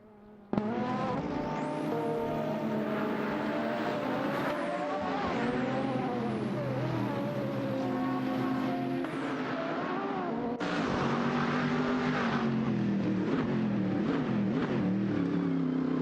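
Race cars in a racing video game scream along at high revs, engines rising and shifting with tire squeal as several cars jostle for position, loud and continuous.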